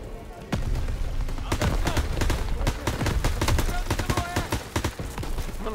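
Rapid bursts of gunfire in the video game Call of Duty: WWII campaign crackle and pop loudly throughout, with several sharp shots standing out over a dense, continuous battle din.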